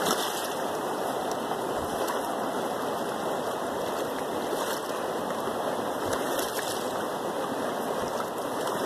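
A river runs steadily during gold panning, a continuous close rush of flowing water that holds even and unbroken with no voices over it.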